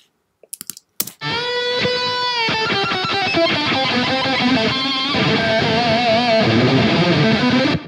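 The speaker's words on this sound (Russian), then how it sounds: "Это очень короткий повтор, это называется slap delay" A solo electric guitar played through a short slap delay, each note followed closely by a quick repeat, running phrases for several seconds after a few brief clicks at the start, close and loud with no talking.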